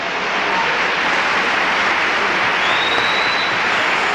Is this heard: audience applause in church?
yes